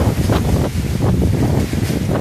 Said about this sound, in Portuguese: E está chovendo, meus amores, ó. Chovendo. Vou ter que finalizar aqui o vídeo porque está chovendo. Olha, muito vento.